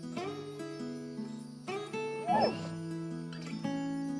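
A dog barks a few times in the Final Fantasy XIV game, brief yips and a whimper over sustained background game music, fairly close and moderately loud.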